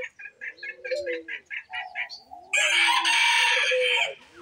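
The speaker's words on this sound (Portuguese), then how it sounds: "A galinha e o galo tá lá no ninho." Hen and rooster in a nest box give a run of rhythmic, closely spaced clucks, then the rooster breaks into a loud, sustained crow that fills the second half.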